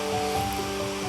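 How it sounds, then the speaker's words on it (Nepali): Mohini waterfall near Kulekhani, Nepal, roars as a steady, dense rush of falling water that fills the whole short stretch with no pauses. "मोहिनी झरना फाइनल्ली आइसकेको छौँ"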